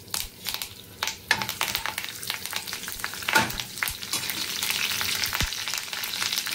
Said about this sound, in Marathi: तेल थोडंसं तापलं की आपण त्याच्यामध्ये लगेच 9-10 कढीपत्त्याची पाने टाकायची आहेत